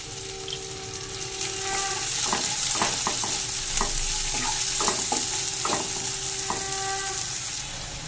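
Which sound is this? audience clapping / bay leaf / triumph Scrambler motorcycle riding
bay leaf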